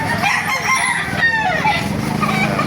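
A rooster crows loudly and close at a crowded chicken market in Baliuag, Bulacan, its drawn-out call rising over a constant background of other fowl and faint voices.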